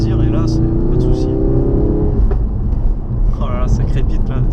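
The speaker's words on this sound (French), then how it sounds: "C'est un échappement à valve active et en fait ils injectent, je crois que c'est un petit peu d'essence ouais, à chaque fois pour que ça crépite." A Ford Focus RS with an active-valve exhaust drones steadily from inside the cabin, and a falling engine note gives way to sharp crackles and pops that resonate through the car. A voice talks over it.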